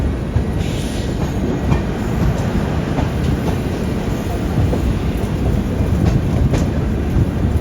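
A Rajdhani Express running behind a WDP4D diesel locomotive gives a steady, loud rumble of wheels and carriages that continues without a break, heard close up and from inside the train, with no voices.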